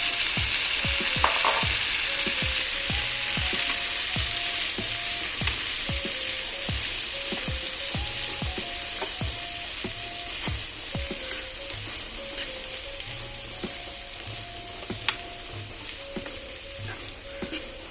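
Cowpeas frying in a pan with browned onion and curry leaves give a dense, continuous sizzle with repeated scraping stirs at a steady rhythm, close and without talk.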